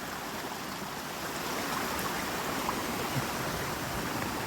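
Water flows steadily toward a spoon water wheel at an old mill, a continuous broadband rush and trickle with no pauses, moderately close and fairly quiet throughout.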